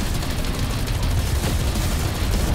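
Shooting at a huge zombie in Cold War Zombies on the Firebase Z map, a dense, continuous roar of rapid gunfire and booms filling the whole moment, loud and close with no clear voices over it.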